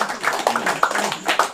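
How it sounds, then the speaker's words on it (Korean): An audience claps at a certificate presentation held by a Korean moral citizens' movement group. The clapping comes as a short, uneven patter of hand claps that fills the whole moment at a moderate level. "여러분 박수 한번 보내주십시오."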